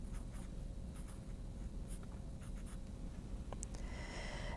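Pen writing an answer into a blank on a prealgebra test, with soft, close scratching strokes in short bursts over a quiet background, ending in a brief sharper tap.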